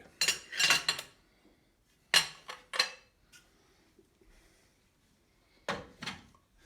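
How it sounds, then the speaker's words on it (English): Someone clears a kitchen work area before kneading bread, sending a few bursts of clattering utensils and dishes clinking close by, separated by quiet pauses. "I'm going to clear my work area here for a moment"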